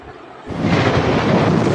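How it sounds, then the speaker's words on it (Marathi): A sudden loud clap of thunder during a storm, bursting in after a quiet moment and rolling on as a dense, sustained roar close by. "आकाशात ढगांचे वर्तुळ तयार झाले आणि जोरात वीज चमकली."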